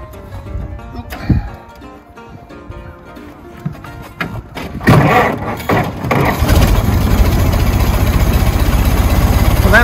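A Ford Model T engine cranks and catches, then settles into a steady, loud idle with a rapid even chug that dominates to the end; a voice speaks briefly before it starts.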